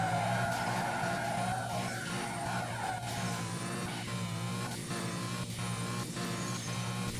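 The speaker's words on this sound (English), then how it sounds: "And here I have a quad turbo supercharger setup." A quad turbo supercharged engine in the video game CloseCall, a steady droning engine tone with shifting whine and turbo whistles rising and falling, loud and continuous with no talking.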